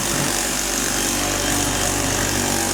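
Power tool cutting through masonite board, a loud, continuous harsh buzzing roar that holds steady for a few seconds, close up and alone.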